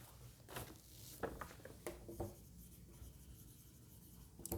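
Pen writing a question on paper, soft continuous scratching and scribbling strokes at close range, quiet, with small taps and pauses between words.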